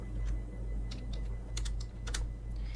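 Computer keyboard typing while an SQL query is entered, a steady patter of close key clicks in short bursts over a faint low hum, with no talking.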